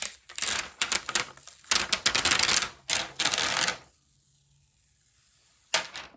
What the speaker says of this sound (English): so then you just peel it off of the backing here